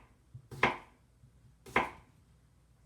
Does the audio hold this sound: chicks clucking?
no